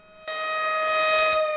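A Siren Head creature's siren blares in a horror video game, a loud sustained tonal wail with stacked steady harmonics that starts abruptly and holds, briefly swelling near the end.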